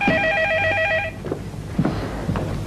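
An old household telephone in a PTV drama trills for about a second with a clear electronic ring, then stops, leaving short soft knocks and faint room noise.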